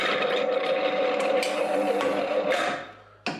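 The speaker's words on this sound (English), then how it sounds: "And then we carefully place the vegetable inside. And we get nice sliced beetroot." A Robot Coupe CL50 food processor fitted with a 5mm slicing disc slices beetroot, giving a steady whirring mechanical hum that winds down near the end, followed by a brief knock.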